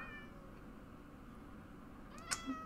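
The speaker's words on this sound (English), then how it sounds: "You just released the cat!" A cat gives a short meow near the end of a quiet stretch of low background noise, heard alone without talk.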